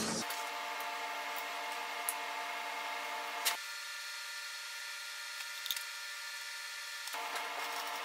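A metal lathe turning at 900 RPM takes a boring cut with a carbide insert, giving a steady machine whine with tonal hum that shifts as the cut engages and eases off, a few small clicks, no talking.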